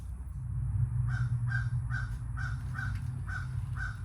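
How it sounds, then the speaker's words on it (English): Crows caw outside in a steady run of about seven calls, roughly one every half second, loud and clear over a low continuous rumble in a toy hauler repair setting. "those birds are making a lot of noise out there."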